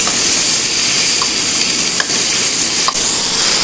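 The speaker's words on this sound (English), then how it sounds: "Let's give it one mix." Vegetables are tossed with black pepper powder, mixed dry herbs, red chili flakes and olive oil for grilling, giving a steady, close, hissy rustle with a couple of soft clicks and no talking.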